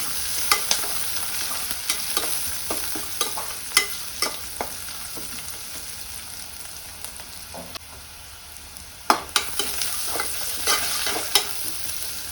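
Onions frying in a pan until browned for dum biryani, with a steady sizzle broken by repeated clacks and scrapes of stirring, close and moderately loud.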